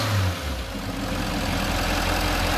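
A car engine idles steadily and close up during a battery test, a low continuous rumble with a brief deeper swell at the start and no talk over it.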